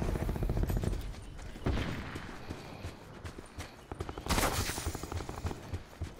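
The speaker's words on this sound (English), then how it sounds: "Where's he shooting at you from?" Gunfire crackles during a video game, with rapid volleys and bursts of shots in clusters that rise and fall, fairly loud and close, under a faint voice.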